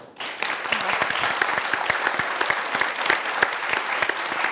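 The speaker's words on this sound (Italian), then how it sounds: "Accogliamo con un grande applauso" An audience at a primary school event in Borello breaks into applause, sustained crisp clapping from many hands after a brief quiet start, close and fairly loud.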